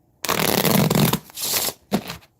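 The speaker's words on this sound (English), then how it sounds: "one more shuffle, y'all" A deck of tarot cards is shuffled by hand in three close riffling bursts, a long one followed by two shorter ones, with no talking.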